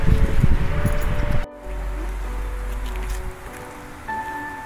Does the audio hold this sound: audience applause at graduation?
no